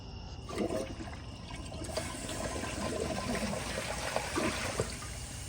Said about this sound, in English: Okay, here's a flush.